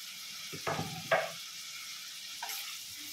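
Onions, curry leaves and green chillies fry in a pan: a quiet, steady sizzle with a couple of brief stirring scrapes near the start, and no speech.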